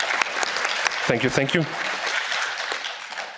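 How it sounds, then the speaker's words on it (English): Audience at a European Parliament hearing on disability freedom rights clapping, a dense burst of applause filling the room while someone briefly speaks over it. "Don't applaud too soon."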